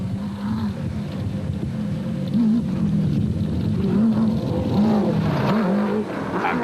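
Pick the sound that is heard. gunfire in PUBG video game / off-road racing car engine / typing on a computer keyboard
off-road racing car engine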